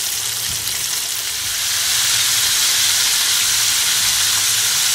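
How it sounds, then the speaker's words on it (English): Three fish frying in oil in a pot, a loud, dense, continuous hiss and crackle that swells slightly after the first couple of seconds and then stays steady and close. "I'm adding at least 3 fish. You're just gonna allow it to fry for at least 5 to 4 minutes on each side"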